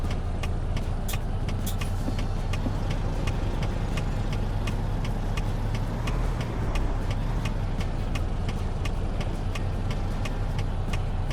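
A truck engine in American Truck Simulator drones steadily while the rig maneuvers a long load into a tight dropoff, a constant low rumble with faint regular ticking above it and no speech.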